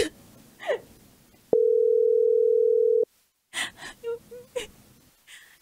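A phone's dial tone cuts in alone as one steady, loud tone lasting about a second and a half, with gasping, distressed voices and talk before and after it.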